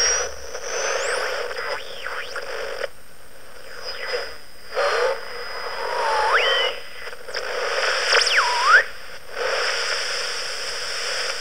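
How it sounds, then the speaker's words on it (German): A Franzis shortwave tube radio with the regeneration control turned up whistles and warbles while being tuned across the band, sliding tones rising and falling over steady static hiss in bursts, with brief quieter gaps. "Also man kann mit angezogener Rückkopplung erstmal gucken, wo es pfeift und dann gucken, was das für eine Station ist."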